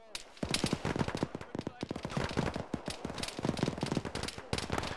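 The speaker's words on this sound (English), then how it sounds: "Got another fire from the west to southwest." Video game gunfire crackles in dense, rapid bursts of shots, loud and continuous with near-constant overlapping reports.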